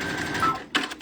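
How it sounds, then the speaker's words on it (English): Sewing machine running a straight line of zigzag stitches through stretchy knit fabric, a steady close mechanical whir that briefly dips and swells near the end, with no talking. "So you'll see it's just sewing just like in a straight line"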